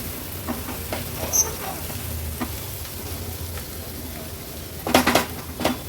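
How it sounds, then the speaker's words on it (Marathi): Dry coconut paste is sautéed with tomatoes in a pan for a Maharashtrian Agri-Koli veg thali, heard as a low steady sizzle with light utensil taps and a brief burst of clattering stirs near the end. "वाटण पण छान ह्या टोमॅटो सोबतच परतून घेते."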